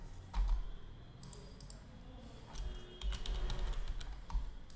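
Someone types on a computer keyboard, entering a page title in quick, uneven bursts of close, crisp key clicks with short pauses between them.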